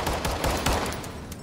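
Automatic gunfire in Firewall Zero Hour, a fast burst of close, loud shots in quick rhythm that lasts just over a second.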